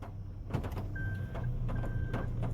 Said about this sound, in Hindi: you will be able to here the reverse gear